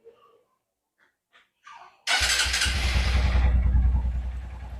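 A Honda CB150 Verza motorcycle's cold engine, running on Delvac car oil, cranks and catches after a few quiet knocks, then settles into a loud, steady idle close by.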